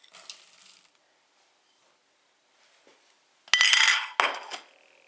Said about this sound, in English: Again, folding it, twirling the bowl until it's all incorporated.